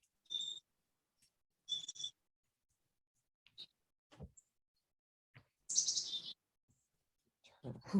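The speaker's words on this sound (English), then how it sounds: "Those birds sound great." Birds chirp in short, separate bursts amid quiet, each call a brief bright tweet, with sparse faint talk and small handling sounds between them in a garden setting.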